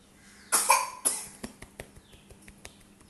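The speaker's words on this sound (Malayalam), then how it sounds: "ചുമ." A person coughs twice sharply and close by, followed by a string of faint clicks and small rustling sounds in a quiet room.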